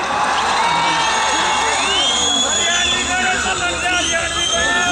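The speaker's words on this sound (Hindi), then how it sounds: "जो बीवियों के बिना आए हैं वो एंजॉय में तालियां बजाइए" A large crowd at Kapil Sharma's comedy stage show at Tawang Festival 2019 in Arunachal Pradesh roars with cheering, whoops and loud babble, and light clapping sits under the constant crowd noise.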